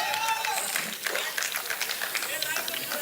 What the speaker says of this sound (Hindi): एक बार ताली वाली मस्ती के साथ बजाइए